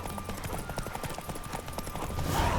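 A horse in The Witcher 3 video game trots along, its hooves beating a fast, steady clip-clop that is loud and close, with game ambience behind it.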